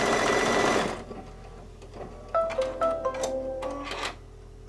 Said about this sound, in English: it's doing a very tiny, tight, narrow satin stitch down the center of those wide satin stitches